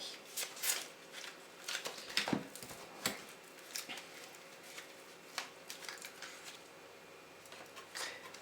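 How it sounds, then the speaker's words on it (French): Tarot or oracle cards are handled and one is drawn from the deck, producing soft, faint riffling and sliding card flicks that are scattered and irregular in a quiet room. "On va retirer juste une petite carte."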